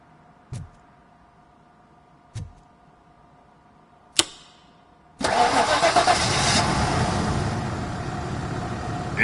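A car engine, its ignition coil just reconnected, is cranked after a few sharp clicks, then catches and settles into a loud, steady idle close by.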